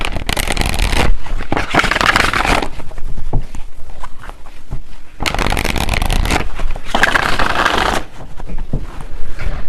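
Tarot cards are shuffled loudly and close up in long riffling bursts, separated by a quieter stretch of handling and sliding cards.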